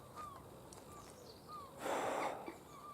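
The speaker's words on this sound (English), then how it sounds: "you can hear the seagulls, the crows" Crows and gulls calling outdoors near a waste tip, several short, faint calls spread across the clip with a broader burst of noise partway through, no talking.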